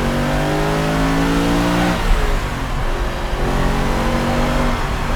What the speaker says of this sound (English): Just a sweet little engine, this all-alloy Lamborghini V8, designed in-house.